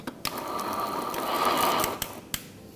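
A blender coarsely grinding lamb for kebabs whirs steadily for about two seconds, then cuts off, followed by a couple of sharp clicks.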